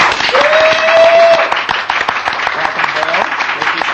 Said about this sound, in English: can we have a big clap, please?